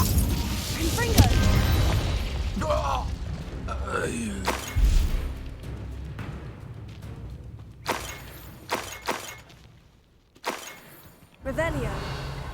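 The Confringo blasting spell in Hogwarts Legacy goes off in a sharp booming impact with crackling debris, followed by scattered thuds, creaks and magical whooshes from combat, with a voice speaking at times.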